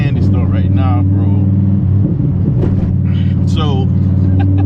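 A 2017 Dodge Viper GTC ACR Extreme rumbles with a deep, loud, continuous low engine drone, while people talk excitedly over it.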